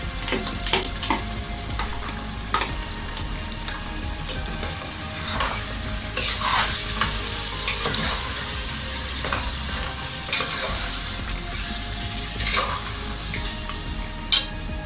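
Yogurt is stirred into mutton korma in a hot pan: a continuous close sizzle with rhythmic spoon scrapes and occasional sharper clinks, steady and loud throughout with no voice.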